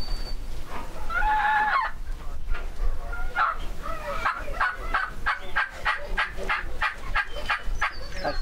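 A hunter's mouth-blown turkey call imitating a young turkey's chick, chuck and yelp notes at a Jakes Day event. Loud, close, rapid series of raspy yelping notes runs almost continuously, with a short pause early on.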